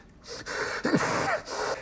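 A single sharp sneeze with a gasping intake, close and abrupt, over a hissy background.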